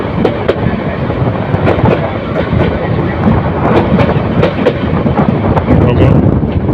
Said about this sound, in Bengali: ট্রেনটি সুন্দর একটি বাঁক নিচ্ছে বাঁক নিয়ে এগিয়ে চলছে